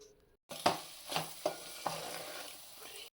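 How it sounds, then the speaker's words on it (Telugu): Spices being stirred into non-veg fried rice frying in a pan, with several distinct scraping strokes of a spoon over a steady soft sizzle, close and moderately loud, no talking. "సరిపోయేంత కారం వేసుకొని దాని తర్వాత గరం మసాలా, ధనియాల పొడి వేసుకొని బాగా తిప్పుకోవాలి."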